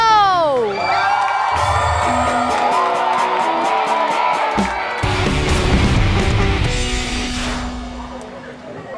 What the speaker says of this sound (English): please give a round of applause to your favorite team